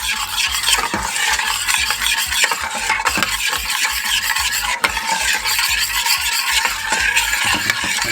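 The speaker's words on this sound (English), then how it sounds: "And then I'm going to beat that together." Mango glaze ingredients are beaten together in a bowl for a salmon dish, giving brisk, rhythmic scraping and clinking strokes that run without pause, close and fairly loud, with no talking.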